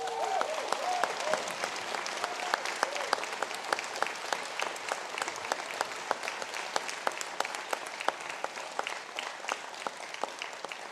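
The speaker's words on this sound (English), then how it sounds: "to stand for a round of applause" Audience applause for autism and special educational needs master's graduates at an ATU Sligo conferring ceremony: dense, sustained clapping from a large hall that stays steady and even throughout.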